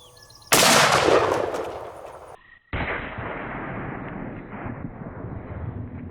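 A Magnum Research BFR revolver chambered in .450 Marlin or 45-70 fires a single loud, close shot at a watermelon, a sharp blast followed by a long decaying rumble and outdoor echo.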